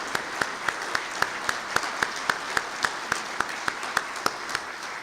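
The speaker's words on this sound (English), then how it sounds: "I think we should give them all a round of applause" Audience applause for student award winners in an undergraduate category at a naval engineering conference, heard as sparse, evenly spaced claps with a few distinct sharp hand claps standing out over a softer steady patter.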